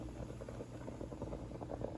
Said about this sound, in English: There it is boiling.